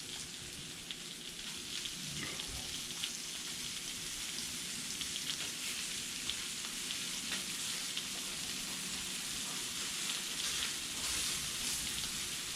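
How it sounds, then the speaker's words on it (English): Sausages fry on a Blackstone griddle with a steady, even sizzle and faint crackling pops throughout, no one speaking. "so now it's time to put the sausages on"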